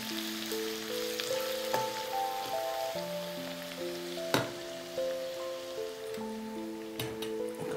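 Onion frying in a pan for methi chicken: a steady sizzle and crackle with occasional stirring clicks, under sustained background music, close and moderately loud.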